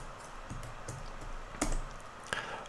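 Typing on a computer keyboard: a short run of quiet, irregular key clicks with a couple of louder taps, close by and with no talk.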